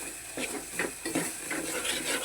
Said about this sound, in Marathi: चांगलं तेल सुटेपर्यंत परतू यायला हे बघा तसा गोळा उचलला तेल सुटले बाजूने